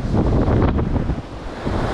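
Strong wind buffets the microphone on a sea shore while fishing from the bank, a loud, continuous roaring rush with gusts rising and falling, and waves lapping beneath it.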